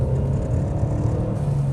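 A Ford Mustang EcoBoost engine fitted with a Cobb Access Port tune gives a steady, low, close rumble, with no clear rise in revs over the brief moment.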